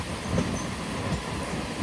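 A train rumbles past on a Bangladesh intercity line toward Benapole, a steady heavy roll of wheels on track with faint squeals and clickety-clack, continuous and fairly close.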